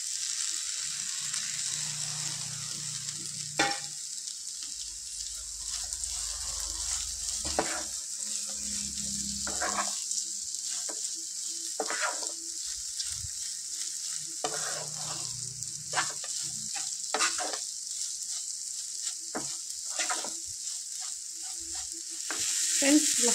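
Chopped okra fries in a pan over a high flame, a steady loud sizzle running throughout with repeated scraping and stirring strokes of a spoon against the pan.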